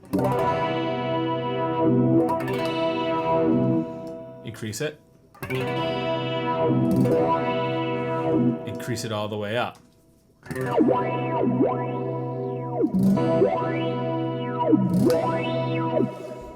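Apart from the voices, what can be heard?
electric guitar wah effect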